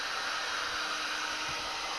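A heat gun blows hot air over heat shrink tubing while a mains filter plug is being built, giving a steady, faint airy hiss with no talking.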